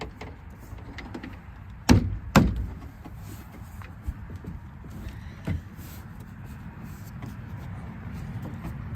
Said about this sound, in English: Now we'll attempt to put the door card back on